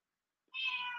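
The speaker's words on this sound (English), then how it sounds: "can you hear my kitty meowing in the background?" A pet cat gives a single short meow, faint and somewhat distant, after a moment of near silence.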